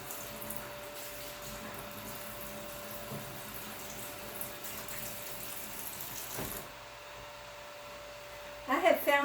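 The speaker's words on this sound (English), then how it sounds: "I can wash the extra chalk off of there very quickly" Water runs steadily from a tap as leftover chalk is rinsed off a stencil. The flow hisses evenly under a person's speech, cuts off abruptly near the end, and is followed by a brief clatter.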